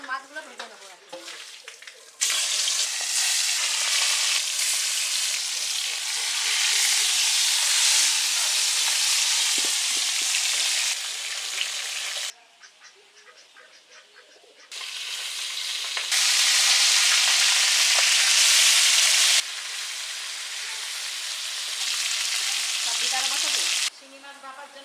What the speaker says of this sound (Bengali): এখন মাছগুলো ভেজে নেবো আর কি।